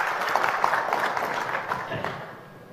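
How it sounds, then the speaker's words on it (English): Audience applause at a Nokia 8 smartphone launch event in India, a steady wash of many hands clapping through the hall that fades toward the end, with faint voices underneath. "give a big applause to all the people who were involved in this"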